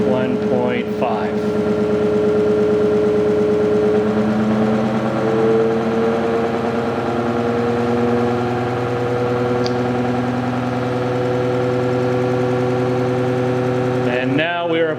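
ReGen-X EV stepper traction motor running under regenerative charging, giving a steady, loud droning hum with layered tonal harmonics that holds for the whole stretch and barely changes.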